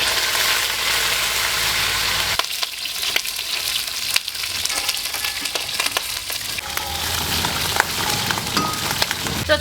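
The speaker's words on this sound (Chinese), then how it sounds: "那现在把这个处理好的黄鳝下锅煎" Pieces of cleaned, field-caught rice-field eel hit a hot pan with cold oil and fry in a loud, continuous crackling sizzle. The sizzle shifts in texture partway through, with scattered pops and spatters.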